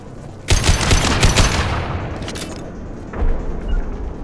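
Heavy automatic gunfire in the Mass Effect 2 combat on Korlus, a loud close burst of rapid shots for about a second and a half, fading, then a second shorter burst near the end.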